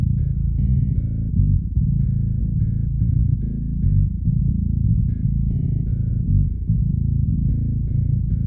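A deep, distorted bass guitar growls through a run of low notes, thick and gritty, playing continuously and loud without any other instruments.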